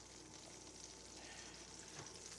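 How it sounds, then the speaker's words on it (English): Butter sizzles in a hot pan while fish is seared, a steady faint crackling hiss with no talking. "We got some sizzling butter."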